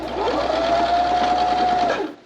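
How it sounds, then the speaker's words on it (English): A sewing machine runs a straight line of stitches in one steady, even burst of about a second and a half, close and alone, then stops with the needle still. "So I'm going to sew a straight line, I'm gonna back stitch and end this"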